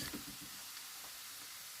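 A roux sizzles in a very hot frying pan, a faint, even hiss of frying with a few soft crackles and no voices.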